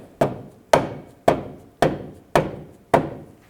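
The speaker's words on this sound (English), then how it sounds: "You can use a rubber mallet or a dead blow hammer just to line this up" Six sharp blows from a rubber mallet or dead blow hammer lining up a control arm bushing on a 2010–2017 Chevrolet Equinox, each a solid thunk with a brief ringing tail, close and loud with no talking.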